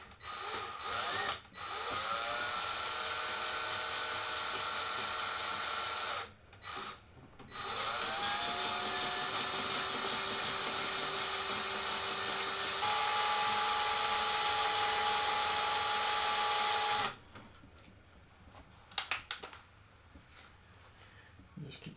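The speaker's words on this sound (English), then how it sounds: "Just keep stepping up the drill size to see if I can start to get through the actual screw." A power drill grinds and whines as it bores out a stuck screw in a decorative side table, running in long sustained bursts with brief pauses between them, loud and close.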